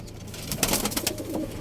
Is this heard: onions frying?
no